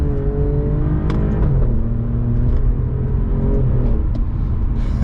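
A 2020 Alfa Romeo Giulia Quadrifoglio accelerating through upshifts, its engine a loud, close rumbling drone that climbs in pitch and then drops with each gear change.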